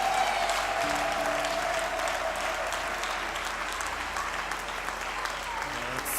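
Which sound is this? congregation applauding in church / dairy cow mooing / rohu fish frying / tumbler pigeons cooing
congregation applauding in church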